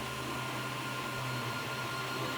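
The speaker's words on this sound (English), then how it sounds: "So right here, I am 3D printing the airplanes that are going to go on the Coast Guard station" A 3D printer running while it prints miniature airplanes for a Coast Guard station diorama, giving a steady, even mechanical hum with fan-like whir that holds unbroken throughout.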